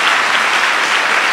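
A church congregation claps hands together in a loud, steady, close wash of applause with no talking over it.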